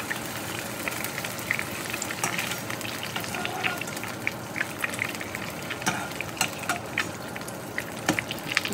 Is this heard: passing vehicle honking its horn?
no